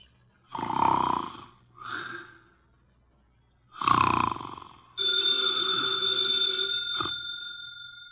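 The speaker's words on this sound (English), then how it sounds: "His eyes are closed, and he's making sounds through his nose." In an old-time radio drama, a man snores in two heavy, drawn-out breaths with short gaps, then a telephone begins ringing steadily nearby and keeps going.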